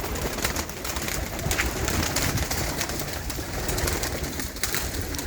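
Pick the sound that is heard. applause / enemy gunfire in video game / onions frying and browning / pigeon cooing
pigeon cooing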